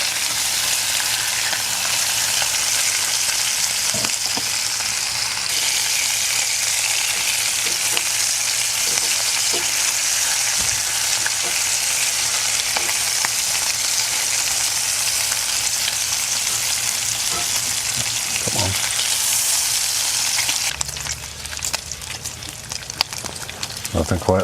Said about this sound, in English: Nothing quite like sizzling bacon.